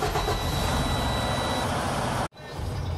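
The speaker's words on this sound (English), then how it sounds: "So now the next thing to do is to start the engine." A Freightliner Cascadia truck with a Detroit diesel engine cranking and turning over, a loud, dense mechanical roar that cuts off abruptly near the end, followed by a quieter idle-like hum.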